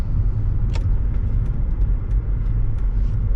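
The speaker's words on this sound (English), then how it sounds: "In the E55 AMG. Oh, I love driving this car." A Mercedes-AMG E55 Kompressor cruising on the road, heard from inside the cabin as a steady low engine and road rumble with a few faint clicks and rattles over the top.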